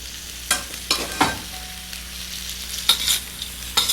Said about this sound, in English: Let's put in our rice. And we're going to saute it all up together for our grand finale.